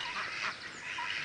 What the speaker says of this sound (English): They're runner ducks.